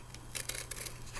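Scissors cut paper into small round eyeball shapes, giving a few quick close snips and crisp rustles in an uneven rhythm.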